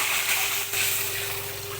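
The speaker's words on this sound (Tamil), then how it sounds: "இப்போ வந்து நான் தண்ணி ஊற்றிக்கிறேன்" Water is poured into a pan of hot oil and ghee while making rava kesari, giving a soft, steady gushing hiss with a faint hum underneath, no voices.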